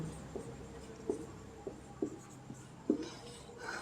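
A maths equation is written out by hand in a series of short, quiet scratching strokes at irregular intervals, close to the microphone, with no speech over them.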